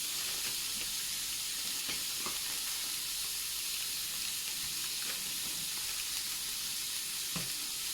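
Mince frying in a hot pan, a continuous close crackling sizzle with scattered pops and stirring scrapes, no voices.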